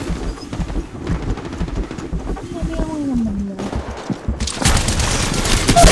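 Bursts of rapid gunfire from Apex Legends Mobile, played on a Poco X3 Pro, crackling loudly and near in quick volleys alongside game effects, with a voice talking over part of it.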